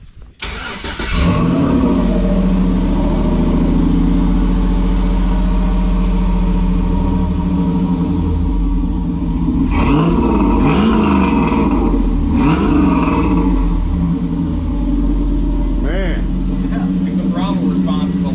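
A 47-year-old Pontiac Trans Am V8 starts and idles with a deep, steady rumble, then revs sharply twice in snappy throttle blips before settling back, recorded up close with people talking over it.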